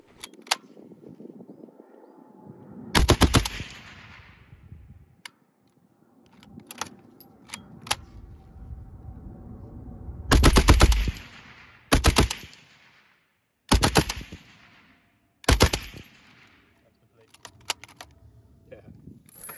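A Vickers machine gun fires surplus Mark 7 ammunition outdoors in several loud, sharp bursts separated by pauses, with quieter clicks and mechanical handling between strings of shots.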